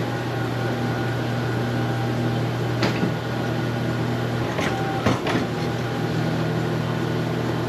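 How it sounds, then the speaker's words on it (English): A hydraulic pump machine at a farm cider operation raises and tips a forklift-loaded bin of apples. A steady, loud motor drone with a humming whine runs throughout, broken by a few sharp clunks and thumps. "we come here to this machine, this hydraulic pump."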